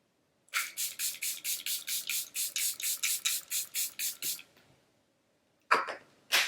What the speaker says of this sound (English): I'm just going to spray my face with my Charlotte Tilbury Airbrush setting spray